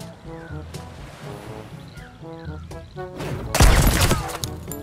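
A bomb blast in the pirate video game Sea of Thieves bursts loudly over a bed of ocean waves and creaking boat sounds, one heavy explosion near the end after quieter rumbling.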